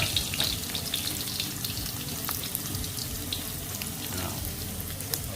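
Shiitake mushrooms fry in a pan, giving a continuous close hiss and crackle with small pops scattered throughout and no talk over it.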